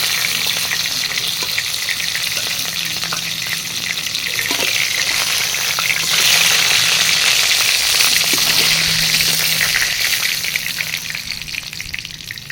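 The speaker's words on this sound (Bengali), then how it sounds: "বাকি মাছগুলো একইভাবে ভেজে নেব" Fish fries in mustard oil in a pan, a dense, steady sizzle close up that swells midway, with faint stirring and no voices.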